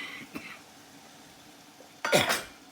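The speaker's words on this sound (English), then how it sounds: "Sorry for coughing, it's very vinegary in here right now." A person coughs in a kitchen thick with vinegar fumes from a bubbling pickle brine, giving one short faint cough early and then a louder, harsh burst of coughing near the end.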